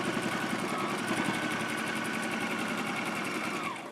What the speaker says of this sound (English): I'm going to sew close that opening